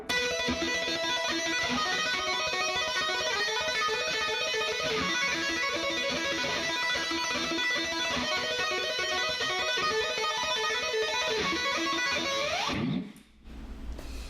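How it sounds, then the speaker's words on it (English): Electric guitar played with two-handed tapping, a rapid stream of bright repeated notes running continuously for about thirteen seconds before cutting off abruptly, with no voices. "I use two-handed technique to play the same notes."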